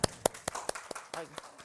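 Participants clapping at the close of a handbook-sharing session, a sparse series of sharp, evenly spaced claps, fairly faint, mixed with a few brief voice sounds.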